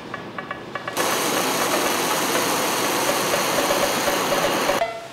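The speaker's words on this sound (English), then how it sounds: "let's set up our neutral flame. Crack open our fuel." An oxy-acetylene welding torch flame is lit and adjusted toward a neutral flame, a loud steady roaring hiss that starts abruptly after a few faint clicks, holds for about four seconds, then cuts off.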